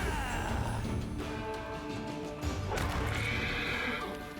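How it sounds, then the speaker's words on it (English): Plague horses in the video game Wrath of the Righteous neigh and whinny loudly over a dense game soundscape, with hoof clip-clop running throughout. "Plague horses."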